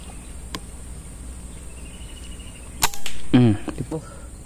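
An air rifle fires a sharp, snappy shot while hunting wild ducks and paddy-field birds, followed by a faint bird call and quiet outdoor ambience.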